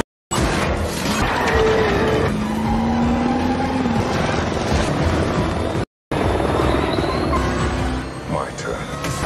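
Two helicopters towing a car in an action film scene, with loud rotor roar and engine noise, tyre skids and crashing effects over a dense, busy mix, briefly cut to silence midway, with voices talking over it.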